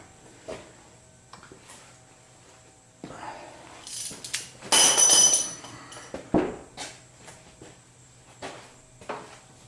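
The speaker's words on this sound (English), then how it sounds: "ratchet dropping to the floor because I grabbed it by the extension that I had on it and it came off" A ratchet with its extension falls onto a shop floor beside a 1976 Corvette restomod, a sudden metallic clatter and rattle in the middle of quiet workshop sounds.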